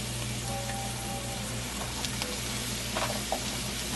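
Onions and celery sizzle in a hot pan in a home kitchen, a steady broadband frying hiss holding throughout with a faint low hum underneath and a few small pops and scrapes near the end.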